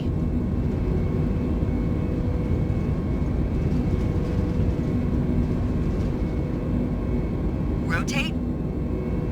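An airliner's engines in Flight Simulator roar steadily through the takeoff roll, a loud, constant broadband rumble with a brief clatter near the end, and no pauses.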